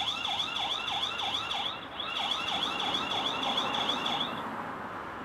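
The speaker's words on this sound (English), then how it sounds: "There's also a siren there. If I click here, I can play the siren there." A rapid, repeating warbling siren from a Mubview 2k outdoor security camera, loud and close, with steady cycles that keep going for several seconds with no talking.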